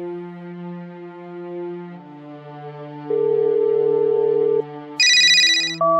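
An outgoing phone call in an animated cartoon plays as an electronic ringback tone: steady sustained pitched beeps that change pitch partway through, then a brief brighter burst near the end, with no voices.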